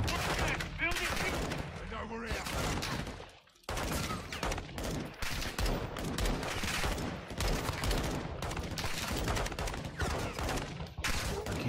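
Gunfire in Call of Duty Modern Warfare 2, with dense rapid bursts of automatic fire and a brief pause in the middle, loud and close, crackling over background battle noise.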